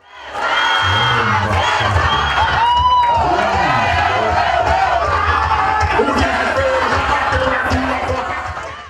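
A large crowd of thousands of people in Cubatão, Brazil, celebrates a newly elected mayor, loud cheering and shouting in a continuous, excited roar with whistles and raised voices.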